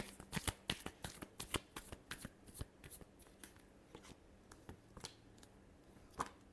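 Tarot cards are shuffled by hand in a quick series of soft riffling slaps and flicks, steady and close, with no talk over them.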